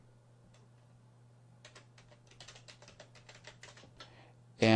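Fingers tapping out an email address on a computer keyboard: a quick run of light, close key clicks over a steady low hum, ending in a brief louder knock.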